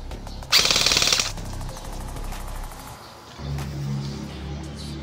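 HK416D rifle firing one rapid automatic burst of about ten rounds, loud and close, followed by quieter outdoor background noise.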